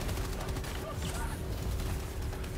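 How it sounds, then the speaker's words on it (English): Machine gun fire in Helldivers 2, a rapid burst of shots in chaotic combat alongside other booms, loud and close for a couple of seconds. "Machine gun!"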